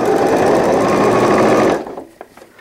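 A sewing machine stitching an all-in-one cloth diaper runs in a loud, steady, fast whir for nearly two seconds, then stops, leaving a few faint clicks.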